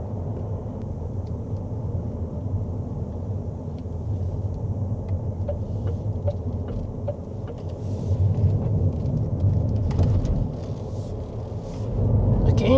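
Leapmotor C10 electric car driving along a country road in sport mode, a steady low road-and-tyre rumble heard from inside the cabin that swells slightly louder toward the end.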